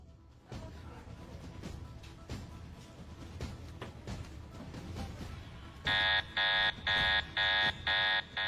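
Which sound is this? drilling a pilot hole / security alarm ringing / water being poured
security alarm ringing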